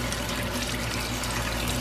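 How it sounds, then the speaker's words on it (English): Water runs steadily off rinsed bok choy left draining in a kitchen sink, a continuous even splash and trickle at close range with no pauses. "I'm just going to leave it until all this water can run off of it."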